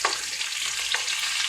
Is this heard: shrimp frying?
yes